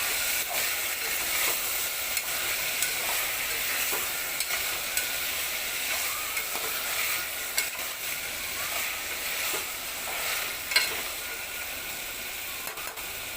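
Soaked chickpeas frying in oil in a pan, a steady broad hiss of sizzling with faint scrapes of stirring, continuous and fairly loud throughout.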